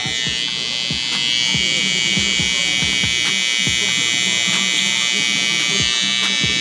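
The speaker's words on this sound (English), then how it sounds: "my trimmers are 0 gaps" Electric hair trimmer, gapped to zero, buzzing steadily and loudly up close during a high taper barber haircut, with a constant whine and faint clicks and no talk over it.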